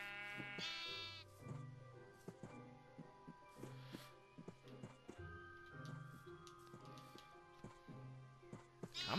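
Minecraft sheep bleat repeatedly over a steady stream of soft clicking footsteps in the video game, with several short bleats spread across the scene and no talking.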